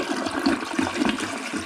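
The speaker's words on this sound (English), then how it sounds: "let's flush that, and I'll show you, like, the water level does come up, swirls around," An old clog-prone toilet flushing, a steady rushing, swirling water roar that carries on throughout at close range without letting up.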